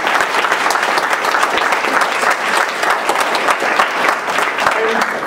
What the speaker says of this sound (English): Round of applause for Amnesty.